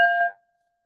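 A single small bell struck once during a full-moon gathering, a bright clear ring with a quick decay fading within half a second, close and alone.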